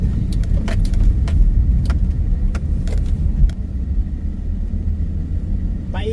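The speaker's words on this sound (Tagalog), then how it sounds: "Honda Pilot. Ayan dire-diretso si Kikoy." A Honda Pilot with all-wheel drive rolls through snow in freezing Canadian winter cold, a steady low engine and tyre rumble heard from inside with scattered clicks and knocks over it.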